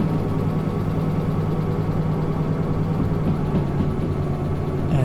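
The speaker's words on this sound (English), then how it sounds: "You can hear the engine revving away." A heavy train engine drones steadily and loudly at a constant pitch in the game Derail Valley, with no voices over the mechanical hum.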